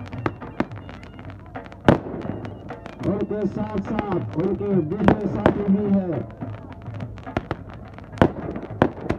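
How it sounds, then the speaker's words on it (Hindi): Fireworks go off at a football match celebration in Jandola, with sharp bangs and crackles scattered throughout, one loud burst near the start, while someone speaks over the noise and a crowd murmurs. "चारों तरफ आतिशबाजी का शानदार नजारा"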